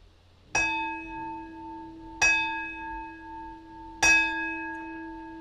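A ceremonial bell is struck three times during a Zen precepts ceremony. Each clear metallic strike rings out with a long, sustained tone and decays slowly before the next, roughly every two seconds, alone in a quiet room.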